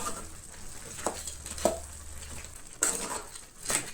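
Turmeric and garam masala are stirred into an onion and tomato mix in a pan, with faint background sizzle and a few distinct scrapes and clinks of a spoon against the pan.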